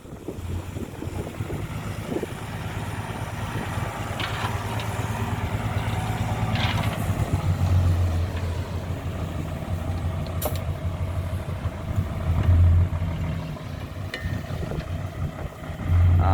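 A Komatsu PC200-7 excavator works at a land-filling job for a pig farm. Its engine holds a steady, loud diesel rumble throughout, mixed with wind buffeting the microphone and occasional brief clanks, with no talking.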